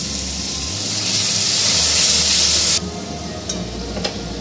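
Tomatoes and a splash of water hit a hot frying pan of spices and ginger-garlic paste for a Bengali topse fish curry, giving a loud, close hissing sizzle that drops off sharply partway through into a quieter simmer with a few scrapes.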